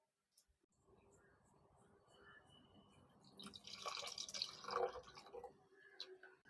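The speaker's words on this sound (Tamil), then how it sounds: "புளி தண்ணி ஊற்றியாச்சு." Tamarind water is poured into a pan of Oodaan fish curry, with soft splashing and trickling that grows louder midway after a quiet start, close by and without talk over it.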